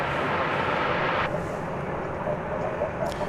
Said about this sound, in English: Arriving from Baston is flight 2527. It's an Airbus A321.